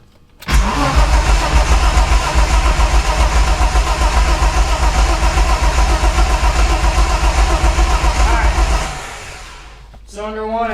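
BMW E30 with a tired, high-mileage M20 six-cylinder being cranked over for a compression test: a steady, rhythmic starter churn close up and loud for about eight seconds, then it stops.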